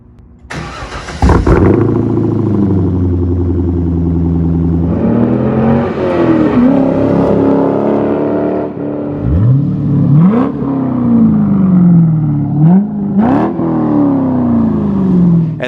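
A C5 Corvette engine with a Billy Boat rear exhaust section fires up with a sharp burst, idles with a deep burble, then revs several times in rising and falling swoops, loud and close.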